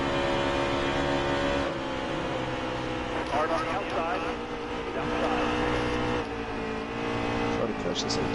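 Stock cars racing in a pack at Pocono, a continuous roar of several engines close together with occasional tire squeal, heard under steady commentary voices.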